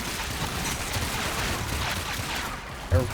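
Sustained, dense automatic fire from the Coda Tysis in Warframe, a continuous rattling barrage running the full length with a sharper burst near the end, loud and close with no talk over it.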